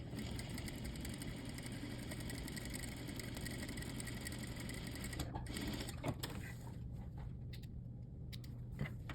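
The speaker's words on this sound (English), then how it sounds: "Leave the needle down at that point, pivot, and stitch down." A sewing machine runs steadily while stitching a lap seam with a reinforcement stitch, a continuous mechanical whir that cuts out briefly near the end as the needle is left down to pivot.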